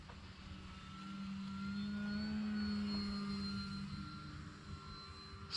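An E-Flite Commander RC airplane on 3-cell power flies past, its electric motor whining with a steady tone that swells louder mid-pass and then fades, heard from the ground without talk.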